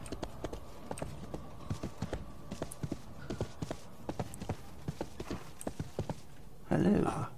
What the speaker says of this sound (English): Let's get on the horse and head on over there.